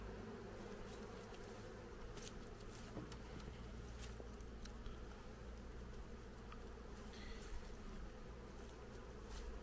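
Caucasian honeybees in an opened hive give off a steady, dense buzzing drone with occasional nearer passing bees, faint overall and with no voices heard.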